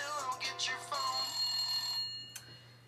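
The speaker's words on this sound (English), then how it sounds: "I've been playing that ringtone all day, so my battery's about dead" A phone ringtone plays: bright, bell-like electronic tones ring in quick bursts for about two seconds, then stop, followed by a brief faint click.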